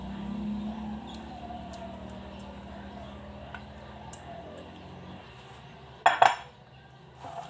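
A spatula spreads vanilla-scented béchamel over coconut in a baking tray of sweet potatoes, giving soft scraping and smearing with faint voice underneath, then a couple of sharp metallic clinks against the tray near the end.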